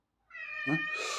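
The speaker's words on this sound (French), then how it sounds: "C'est mon chat, c'est mon minou." A ginger house cat gives a single drawn-out meow, close and clear, rising then opening into a breathy wail, with no talk around it.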